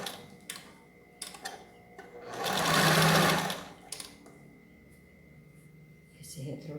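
A sewing machine runs in short bursts and then one longer steady stretch while backstitching along the edge of a dish towel, with faint ticking between the runs and a quiet voice nearby.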